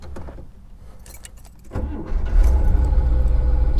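A 1969 Chevrolet Corvette 427 V8 convertible is cranked and fires up, keys jangling briefly before the starter whirs and the big engine catches into a loud, rumbling idle nearby.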